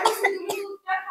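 A young child coughs a few times in quick succession, close and fairly loud, with brief pauses between the bursts.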